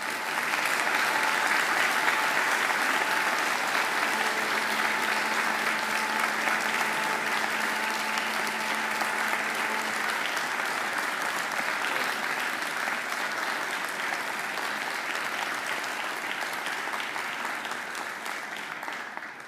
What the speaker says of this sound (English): And now I ask you to give them a mighty round of applause.